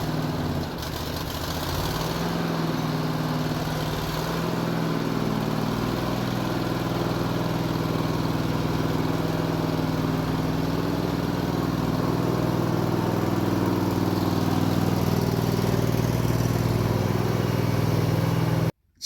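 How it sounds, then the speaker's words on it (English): A tractor engine runs steadily for the whole stretch, loud and close with a low droning rumble, as the tractor is driven and parked, with no talking over it. "So you just saw me putting the tractor away there."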